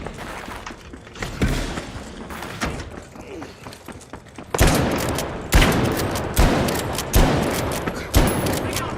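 Gunfire in the video game The Finals, bursts of rapid shots that grow louder and denser midway, punchy and close, with a voice talking over them.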